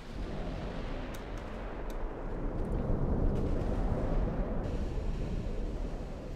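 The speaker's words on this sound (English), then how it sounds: "It's still firing with its 8-inch stern guns, stern turrets." Naval gunfire from a warship's 8-inch stern turrets in the naval battle game Ultimate Admiral: Dreadnoughts, a dense, continuous rumble of heavy booms and blasts rolling throughout, loud and sustained with no speech.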